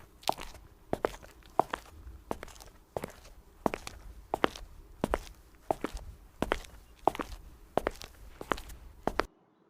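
Footsteps walk at a steady pace, each step a distinct crunchy thud, continuing for several seconds before stopping.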